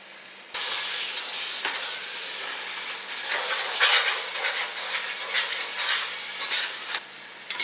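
Onion, tomato, masala and yogurt sauté in a pot for mutton dum biryani; a loud sizzle and steamy hiss bursts in suddenly and carries on with bursts of stirring, then eases near the end.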